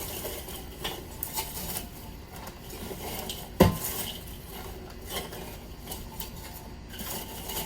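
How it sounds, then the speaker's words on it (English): Leftover charcoal from an earlier cook is loaded into a metal Smoke Bomb smoker. Soft clinks and scraping lead to one sharp metallic clank partway through, followed by quieter rattling, with no talking. "What I have is charcoal from a previous cook, so I'm going to put this in here."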